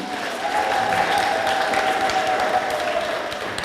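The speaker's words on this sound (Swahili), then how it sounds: "tumpigie Mungu makofi" A church congregation at a Catholic confirmation Mass applauds together, a moderate, fairly even wash of clapping lasting a few seconds at middle distance, with a faint tonal hum running beneath it.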